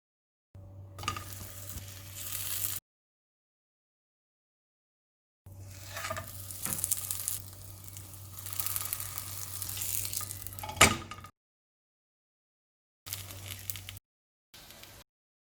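Food cooks in a pan over medium heat, giving a steady soft sizzle in separate bursts with brief stirring scrapes and a sharp clink near the end. No one speaks.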